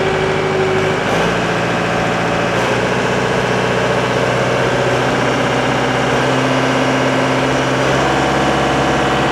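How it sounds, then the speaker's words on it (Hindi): Yanmar 348A tractor engine running loud and steady close by, its idle hum rising as the revs are increased, with a continuous low rumble and vibration throughout. "इसका और आरपीएम हम बढ़ा कर देखते हैं"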